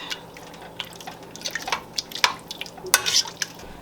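A spoon stirring chili in a pot, producing a run of short wet scrapes and clinks at an uneven rhythm, close and fairly clear with no talking.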